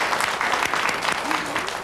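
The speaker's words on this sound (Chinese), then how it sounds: "我们再以最热烈的掌声，谢谢我们静阳师姐" An audience clapping warmly to thank a speaker at a talk-show gathering, a dense burst of applause that lasts the whole short moment, with voices mixed in underneath.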